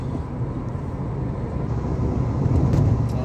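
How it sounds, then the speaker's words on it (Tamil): A Maruti Suzuki Ciaz with a turbo low-pickup fault drives on a test drive, a steady loud engine and road drone from inside the cabin that builds slightly toward the end. "இப்போ நம்ம வண்டி டெஸ்ட் ட்ரைவ் பண்ணிகிட்ருக்கோம்"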